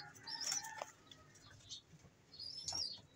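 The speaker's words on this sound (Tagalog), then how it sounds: "Ito po, ang ibon natin." A pet bird, apparently a fowl, gives two shrill calls a couple of seconds apart, fairly faint and close, with soft rustling or wing movement between them and no talking.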